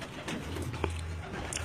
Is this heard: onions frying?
no